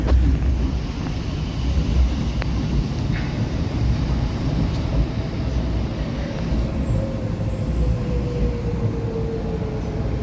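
A Docklands Light Railway B07 Stock train pulls away with a steady, loud rolling rumble, a faint rising electric whine and some wind buffeting the microphone, with no voices.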